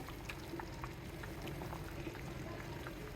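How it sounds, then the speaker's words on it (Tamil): Thick fish curry made with a roasted ground spice paste bubbles in a pot, a faint, steady simmer of small pops and gurgles with no voices. "கறி நல்லா கொதிச்சாச்சு இனி கருவேப்பிலை போட்டு இறக்கலாம்"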